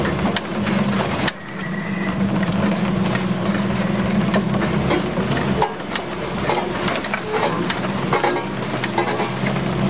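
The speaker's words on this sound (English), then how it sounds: "idling down this hill" An off-road vehicle's engine idles steadily as it creeps down a hill at Evans Creek, a loud, continuous low drone with mechanical clatter and rattling from the cab.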